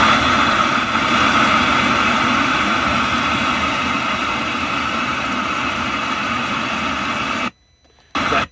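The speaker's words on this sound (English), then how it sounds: "That noise is rain." Rain falling during a night thunderstorm, a loud, dense, steady hiss and rumble that fills the whole stretch, then cuts out briefly near the end before returning.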